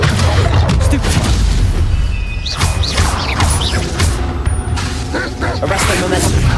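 Loud bursts, crashes and booming impacts of spells cast in combat in the Hogwarts Legacy video game, a rapid run of blasts with whooshing tones, overlaid with a voice calling out spell names.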